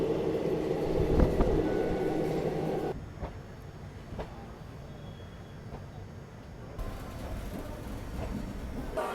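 The Vibhuti Express passenger train runs on rails toward Pandit Deen Dayal Upadhyaya Junction, heard from inside as a loud, continuous rolling rumble with faint clicks. The sound dips into a muffled stretch partway through, then opens up again.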